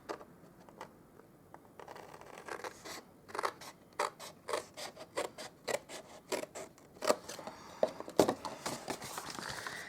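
Scissors cut a cardstock panel off a handmade note card gift box, a quiet run of repeated sharp snips that starts after a couple of seconds and grows steadier and closer.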